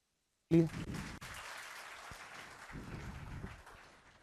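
Students in a physics coaching classroom break into applause after a sudden start, a steady wash of clapping that carries on at moderate level, with some voices mixed in.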